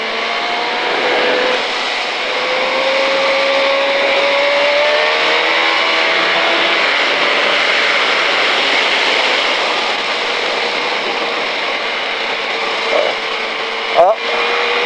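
KTM Superduke 2005 motorcycle engine accelerating on the Pau track, a steady sustained roar with rising tones held throughout, loud and close, with a brief knock near the end.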